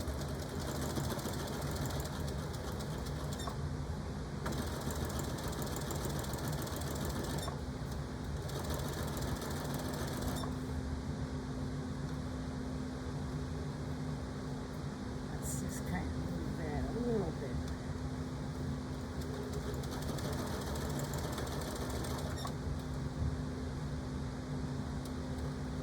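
Sewing machine back stitching a denim phone pouch, a quiet mechanical whirring hum that starts and stops in short runs, with a person talking intermittently over it.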